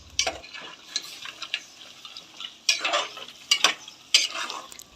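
Goat head curry with salt and chili being stirred in a pan, scattered scraping and clinking strokes of a spoon against the pot over a faint sizzle, close and quiet between strokes, no voices.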